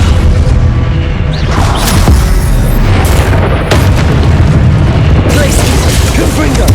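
A Descendo spell impact in Hogwarts Legacy lands as a loud, booming crash amid constant, heavy battle noise with rumbling low end and crackling bursts throughout.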